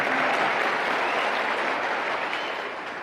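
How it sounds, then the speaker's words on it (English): Audience applause during a talk, a dense, steady crowd of clapping hands that continues for about three seconds and slowly tapers off. "I'll take some applause on that."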